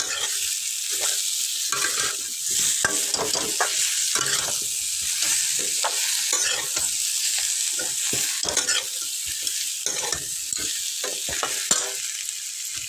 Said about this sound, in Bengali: আমি এগুলো এখন সবগুলি একসাথে ভেজে নেব